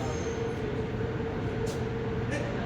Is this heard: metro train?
yes